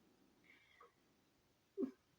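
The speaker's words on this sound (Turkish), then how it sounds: "İçeri girmek istiyor yani miyavlamalarını ve gürültüsünü duyabilirsiniz o nedenle" A cat at a door gives a couple of short, faint meows in a quiet room, one soft call early and a slightly louder one near the end.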